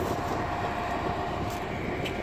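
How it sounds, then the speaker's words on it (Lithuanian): A big, long red train near a forest rumbles steadily with broadband noise, a continuous moderate roar that holds without pause for the whole short stretch and has no talking over it. "Apžiūrim traukinį."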